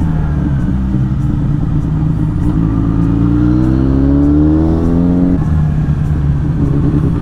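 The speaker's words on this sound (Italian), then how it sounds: "BMW S1000R nuovo di pacca" A BMW S1000R motorcycle engine revs up nearby, its pitch climbing steadily before easing back, over a steady idle rumble on a Swiss mountain pass.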